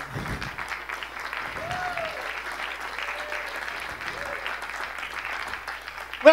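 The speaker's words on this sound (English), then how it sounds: "Listen to that applause." Audience applause at a circus cabaret show: a steady, moderate wash of many hands clapping, continuing evenly for several seconds, with brief voice fragments over it and a sharper burst at the very end.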